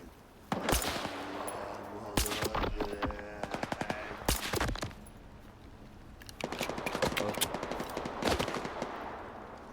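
Gunfire in the video game S.T.A.L.K.E.R. 2 comes in several loud bursts of rapid automatic shots with single cracks between them, broken by short quieter gaps.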